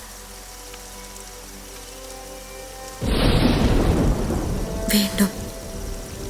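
Heavy rain and thunder in a storm, a quiet tonal background suddenly broken by a loud rumbling roar of downpour and thunder that stays dense and strong to the end, with a brief spoken word.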